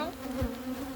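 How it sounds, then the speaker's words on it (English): Honey bees buzz at a hive during an inspection in a steady, close, moderately loud drone with a pronounced tone, sounding alone without any talk. "Oh, that's a bee again."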